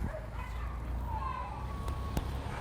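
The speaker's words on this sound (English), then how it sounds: "The dog made an audible yelp." A dog on a loose leash lets out a brief yelp amid outdoor background noise, with a couple of short sharp sounds near the end.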